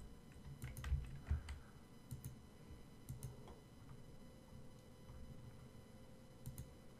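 Computer keyboard typing during a React Google Maps Places Autocomplete tutorial: faint, scattered clicks and short bursts of keystrokes, quiet and close, with no talking.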